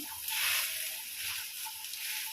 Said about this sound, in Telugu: వర్షం పడుతుంది కదా బయట